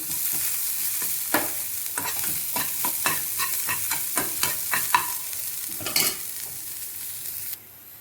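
Tempering spices crackle and sizzle in hot oil for bottle gourd kootu, sharp popping bursts and stirring clatter close by, ending in a sudden cutoff with no talking.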